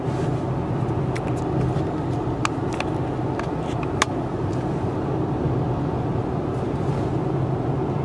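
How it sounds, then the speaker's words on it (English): A high-low truck camper drives the rim road around Crater Lake, Oregon, its engine and road noise forming a steady, loud rumble throughout, with a few faint clicks and rattles. "I'm in a high-low truck camper."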